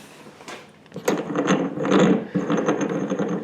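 Metallic ratcheting clicks as a wing nut is turned on a Rotopax fuel can mount on a Suburban, a steady run of close mechanical clicks starting after a quiet first second and continuing to the end.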